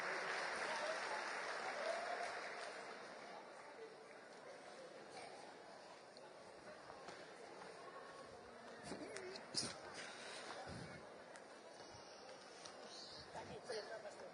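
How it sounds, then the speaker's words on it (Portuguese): A congregation at a church baptism service applauds, a fairly faint wash of clapping that swells early and then thins out, with some voices underneath. "Vamos dar uma salva de palmas, queridos"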